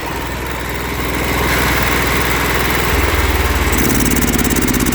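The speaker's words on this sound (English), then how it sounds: "Now that's running with the choke on. Let's see if it'll run without it." Small gasoline engine on a vintage welder runs steadily without the choke, a loud close chugging idle that shifts pitch and roughens partway through, with no talk.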